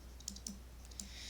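Calculator keys pressed in a short run of light taps, about five soft clicks at uneven spacing, faint and close against a low steady hum.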